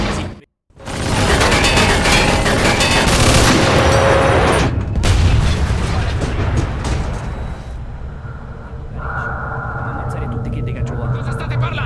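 Artillery and machine gun fire in the Mafia 2 video game: a dense, loud barrage of booms and rapid gunfire after a brief silence near the start, easing slightly toward the end, with voices likely mixed into the din.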